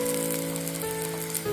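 Spices sizzle steadily in hot oil in a pan while cooking muri ghonto, a Bengali fish head and rice dish, with turmeric, salt, Kashmiri chilli and roasted spice powder; a close, continuous fry with no talk.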